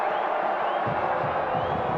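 A steady roar of stadium crowd noise fills a soccer match between New Mexico United and OKC Energy FC, a broad, continuous wash of many voices with a faint swell partway through.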